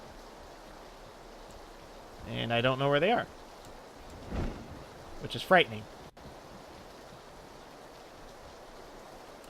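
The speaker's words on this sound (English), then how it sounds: "I can't hear them because of the rain." Steady rain hisses in PlayerUnknown's Battlegrounds, a soft, constant wash that persists beneath someone speaking briefly in the middle and continues alone afterward.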